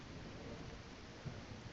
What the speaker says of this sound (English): And of course it's raining because it's the Isle.